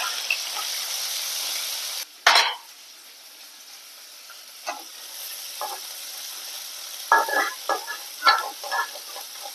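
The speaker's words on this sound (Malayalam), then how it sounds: "നന്നായിട്ടൊന്ന് വഴറ്റിയെടുക്കുക" Crushed shallots and curry leaves sauté in a pan for a raw banana thoran: a bright sizzle at first, then a sharp burst as they hit the oil, followed by quieter frying and a few spoon scrapes.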